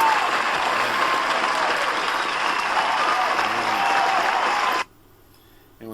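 An audience claps in loud, steady applause for several seconds, and the sound cuts off abruptly near the end.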